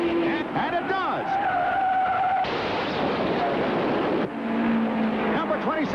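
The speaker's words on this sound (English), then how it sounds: "26 and 67 plow into the infield, trying to get around the stalled car" Race cars at the 1967 Indianapolis 500 plowing into the infield around a stalled car, with repeated screeching tire skids and roaring engines over a commentator's voice.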